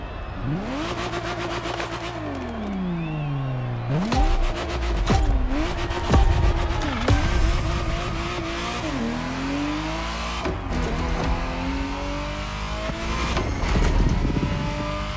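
A Ferrari Testarossa's engine in The Crew Motorfest revs and shifts repeatedly, rising and dropping through gears, loud and close with brief tire squeal and no talk.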